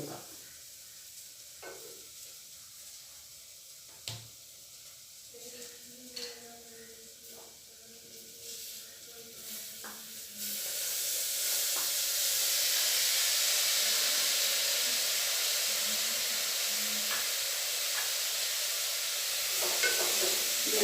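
Tomato rice sizzles in a hot pan while being stirred, with scattered scraping strokes at first, then a loud, steady frying hiss that swells and holds close for the rest of the time.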